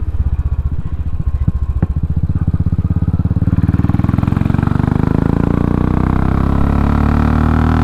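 A Royal Enfield motorcycle engine with a Race Dynamics Powertronic tune revs up on a road test, its close, loud thudding exhaust beat climbing steadily in pitch.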